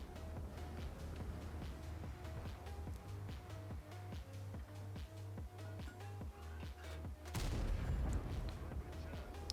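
Tank cannon fire in World of Tanks, with a GSOR 1010 FB medium-light tank in battle: repeated heavy gun reports over a steady engine drone, then a louder close blast near the end.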